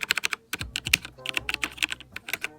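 Rapid typing on a Havit 60% mechanical keyboard with brown switches, a close, clear run of clicky keystrokes in uneven bursts with no talking.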